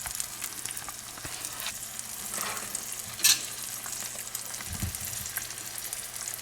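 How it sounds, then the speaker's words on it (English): Eggs sizzle and fry in a pan over low heat, a steady close crackle with a few scraping stirs and taps of a utensil, no talking. "See, they're starting to sizzle."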